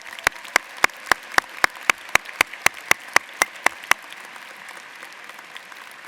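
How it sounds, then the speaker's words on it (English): At a business school commencement ceremony, sharp, evenly spaced claps ring out about four times a second for roughly four seconds, loud and distinct over a quiet hall, then stop and leave faint room noise. "let's please all give them a big round of applause"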